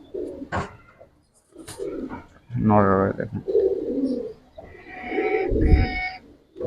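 Giribaz pigeons coo in soft, low murmuring bursts close by, mixed in with someone talking over them.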